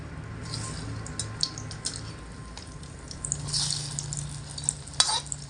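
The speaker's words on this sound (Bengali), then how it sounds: "স্ন্যাক্সগুলো তেলের মধ্যে ভাজার সময় দেখবেন ফুলবে" Potato, flour and egg snacks fry in hot oil, giving a quiet continuous sizzle with light scrapes and clinks of a utensil now and then, close by and without talk.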